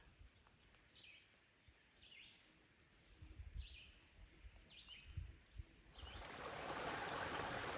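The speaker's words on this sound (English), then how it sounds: "you can hear the stream over here" A mountain stream along the Appalachian Trail gurgling faintly in the background while birds chirp intermittently, the water rushing louder and closer toward the end.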